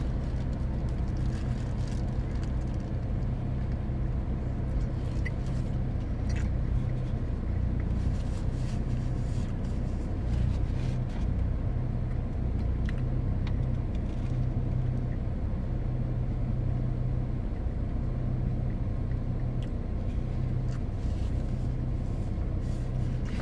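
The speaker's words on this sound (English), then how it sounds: "Watching traffic drive by." Road traffic passes outside an open car window, a continuous low rumble of engines and tyres with faint swells as vehicles go by, steady and moderately loud with no talking.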